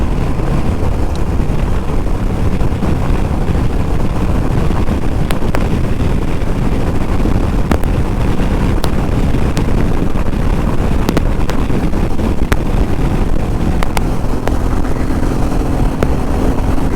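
Royal Enfield Meteor 350 motorcycle cruising at high speed in overdrive on a long highway ride, dominated by steady loud wind rush buffeting the microphone over a low engine drone, with no talking.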